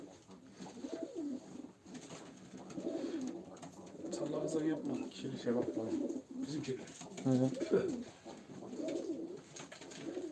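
Pigeons coo repeatedly in soft, rolling phrases at a live pigeon auction of game birds, while people talk close by over the birds.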